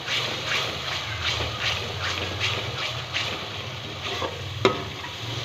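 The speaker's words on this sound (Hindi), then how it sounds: "मसाला तकरीबन हाफ हमारा भून चुका है।" Masala frying in a pan for mixed vegetables, a steady close sizzle with soft periodic stirring scrapes and one sharp clink near the end.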